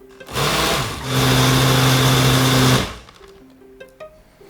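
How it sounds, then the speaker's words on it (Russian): Blender whirring as it mixes a puree with ground almonds, a loud steady motor hum lasting about two and a half seconds, then cutting off to quieter kitchen clatter. "И еще раз перемешиваем все блендером."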